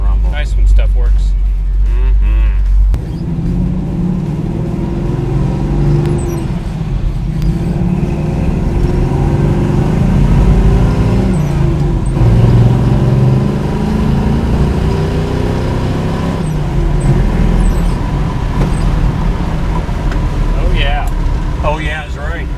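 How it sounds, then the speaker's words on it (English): Deep, steady rumble of a 1972 Chevrolet Nova V8 idling and revving close by, running continuously under people talking over it. "Listen to that rumble."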